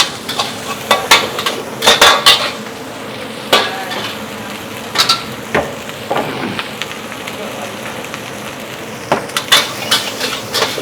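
Food frying in oil at a busy food stall, with crackling sizzle punctuated by sharp clanks and scraping of a utensil stirring the pan, the sounds coming in close, irregular bursts.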